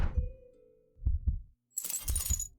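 A video game heartbeat from Morrowind thumps in low, muffled double beats, two separate pairs, close and fairly quiet, with a bright glassy jingle over the last pair.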